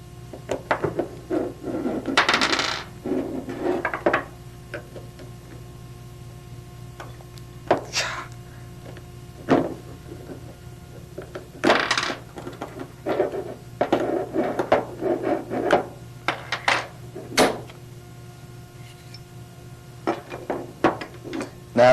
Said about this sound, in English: To do this, you can use the Allen wrench, which is included with the gun, and push them out from the opposite side.